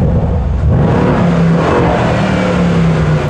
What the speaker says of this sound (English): The legendary AMG V8 engine sound.